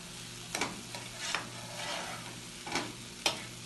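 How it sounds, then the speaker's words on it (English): Soft frying sizzle of onion, pepper and tomato paste in a pan with a few sharp scraping stirs and clinks of a utensil, fairly quiet and close, no talking. "and I am frying this up back here nicely."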